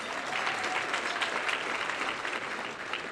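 Steady, dense applause from a luncheon audience, sustained clapping at moderate distance throughout with no break.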